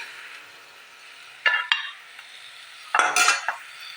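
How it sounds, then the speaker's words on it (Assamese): Sliced ridge gourd fried in oil with salt in a pan, heard as two short bursts of stirring and sizzling separated by quiet, the second burst louder and slightly longer. "জিকাখিনি মই এয়া 2 মিনিট সময় তেল আৰু নিমখত ভাজি ল'লোঁ।"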